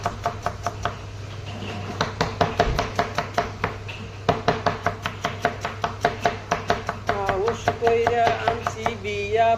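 Rapid, steady knife chops on a cutting board as a large batch of onions is sliced for a big cooking job, close and fairly quiet, continuing evenly with faint background hum.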